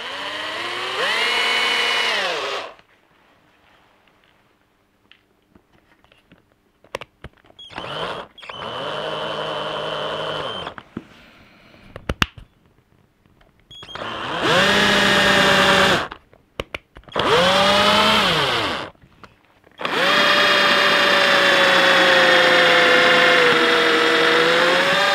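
A drill whirring loudly into wood in several separate bursts, its pitch rising and falling under load, with quiet gaps and small knocks between runs.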